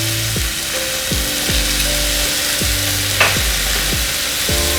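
Onions and mackerel stir-frying in a pan over high flame, a loud, continuous sizzle running throughout, with repeated whining tones that fall in pitch layered on top.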